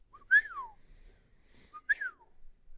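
A person whistles an imitation of a coqui frog call, two short rising-then-falling whistled chirps, close and clear against near silence.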